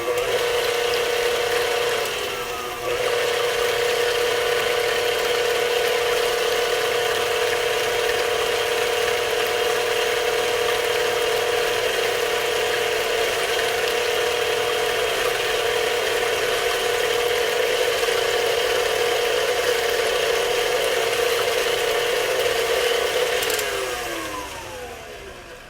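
Red velvet cake batter being whisked steadily in a bowl with a mechanical, ratcheting hum that runs continuously for about 25 seconds before tapering off at the end, with no talking.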